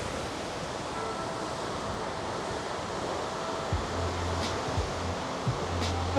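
Steady, broadband rushing of a waterfall in Iceland mixed with gusting wind, continuous and fairly loud, with faint low rumbles underneath.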